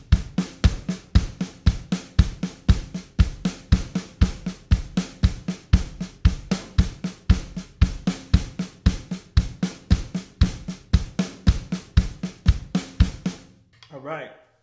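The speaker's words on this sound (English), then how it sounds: "So 4 with our right and then 4 with our left on top of our kick pedal." Drum kit kick pedal struck in a steady, even pulse of close, punchy low thumps while the hands play four strokes right then four left on top, repeating for about thirteen seconds before stopping with a brief voice at the end.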